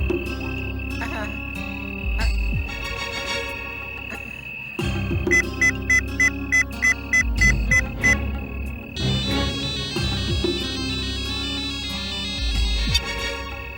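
An electronic phone ringtone plays a repeating melodic pattern with rhythmic beeps, bright and fairly loud, with a low hum underneath.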